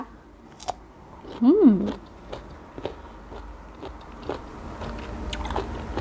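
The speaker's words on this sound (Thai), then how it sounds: "กินมะม่วงกันค่ะ เพื่อนๆ จิ้มกับเกลือ" Crisp mango dipped in salt gets a loud crunchy bite up close, followed by quieter chewing and light scraping noises in a calm setting.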